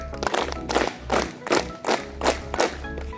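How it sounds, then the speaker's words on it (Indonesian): Scouts at a character-building camp clap their hands together in unison seven times, each clap a distinct, evenly spaced thud over a low background hum. "Tepuk tangan 7 kali."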